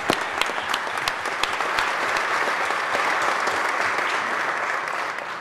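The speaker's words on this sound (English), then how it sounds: "maybe we can give them a round of applause" Sustained round of applause from a gathering of students and staff in the New York State Senate chamber, steady and fairly loud throughout with sharp individual claps standing out.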